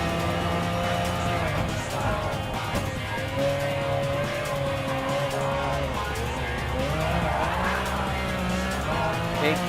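A 1995 McLaren F1 GTR Le Mans race car roars through a Gran Turismo Sport lap, its engine howling loud and continuous with rising and falling revs as it shifts, with occasional tire squeal mixed in.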